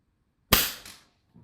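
A single sharp, crisp crack from a regulated PCP air rifle firing a pellet, a short snap decaying quickly, followed by a faint mechanical sound.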